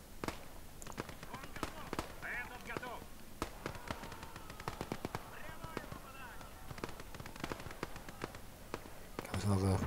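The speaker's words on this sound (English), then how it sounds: "Guns are pointing at it and firing." Tank guns and battle fire in the real-time strategy game Gates of Hell, a steady barrage of sharp cracks and thuds throughout, under a voice talking most of the way, with a louder burst at the end.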